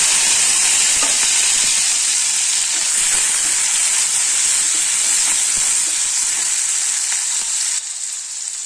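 Ginger garlic paste and curry leaves hit hot oil and give a loud, constant hissing sizzle, close by with no voices and a slight easing at the very end.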